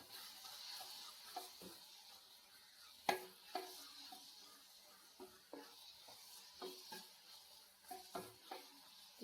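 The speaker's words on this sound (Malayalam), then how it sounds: "എന്നിട്ട് ഇളക്കി കൊടുക്കാം." A spoon stirs moringa leaf thoran in an oiled pan, giving irregular scraping clicks and taps over a faint sizzle, with one sharper knock early on; quiet and close.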